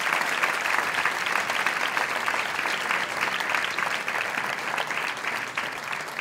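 A crowd gives an athlete long, dense applause at an athletics awards gala. The clapping is even and steady, holds near the same level from start to finish and stands alone without speech.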